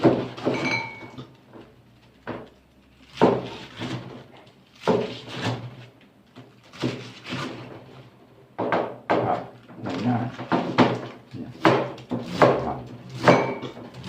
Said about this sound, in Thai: เราหั่นให้สั้นๆหั่นให้เล็กๆ